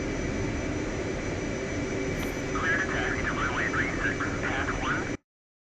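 Military jet engine idling and rumbling steadily during taxi in the DCS World flight simulator, a constant broadband roar with muffled radio-like voices faintly underneath.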